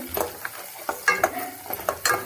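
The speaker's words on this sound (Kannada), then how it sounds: "ಸ್ವಲ್ಪ ಕಲರ್ ಚೇಂಜ್ ಆಗೋವರೆಗೆ ಫ್ರೈ ಮಾಡ್ತೀನಿ" Upma being stir-fried in a pan until it changes colour, with a steady oily sizzle broken by repeated scraping strokes of a spoon, close and moderately loud, no voices.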